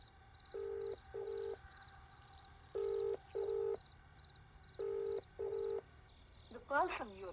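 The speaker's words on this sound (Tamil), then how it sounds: "டேய், சசி கால் பண்ணு." Telephone keypad tones dial a call: three pairs of short, clear beeps spaced evenly over several seconds, followed by a brief voice speaking at the end.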